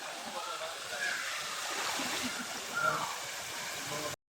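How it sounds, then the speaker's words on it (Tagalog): Water waves wash and splash at a resort pool, a steady close rushing and sloshing that lasts throughout with no clear voices. "Ang tataas ng waves."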